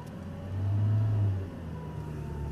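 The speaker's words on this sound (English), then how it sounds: "The first couple of yards driving an Audi R8 into second gear." An Audi R8 engine revs up as it pulls away into second gear, a close, deep surge that swells for about a second and then settles back to a lower running hum.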